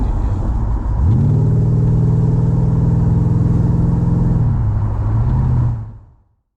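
A 1999 BMW 840Ci E31 engine idles, then settles into a steady drone around 1500 RPM with a smooth harmonic hum, dipping slightly before fading out near the end.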